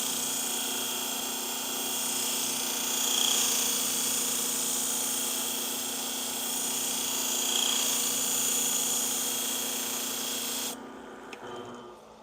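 Pet grooming shears sharpened on a sharpening machine, a continuous close grinding, rubbing whine that swells slightly twice and then cuts off near the end.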